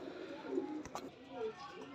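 Pigeons coo softly in a home loft where flying pigeons are kept, a few low murmuring calls mixed with faint chirps under a man's nearby speech.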